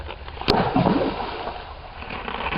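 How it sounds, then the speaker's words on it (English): Water splashing in a tabletop simulated volcanic eruption demonstrating magma and rippling, with a sharp splash near the start followed by continuous bubbling and sloshing. "Now I'm going to simulate a volcanic eruption."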